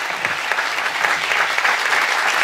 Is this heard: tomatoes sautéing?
no